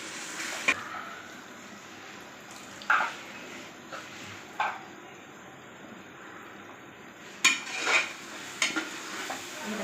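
Chili-powdered masala for home-style biryani sautéing in a pan, a quiet low sizzle broken by a few sharp scraping and clinking stirs of a spoon against the metal.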